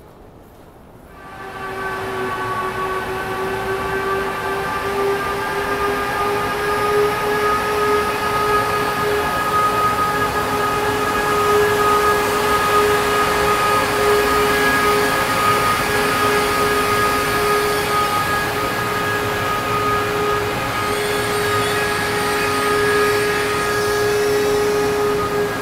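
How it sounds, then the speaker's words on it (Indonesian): A high-speed train from Madinah pulls into the station with a loud, steady electric whine and humming tones over a rushing rumble, swelling in at the start and holding near and constant with no speech. "Alhamdulillah kereta yang sudah sampai"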